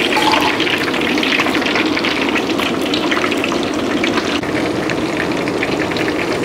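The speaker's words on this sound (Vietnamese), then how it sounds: "Hôm nay nương chiên cho cái bánh cống vàng giòn nha." Banh cong rice cakes fry in hot oil, a loud, dense, continuous sizzle that crackles evenly throughout at close range.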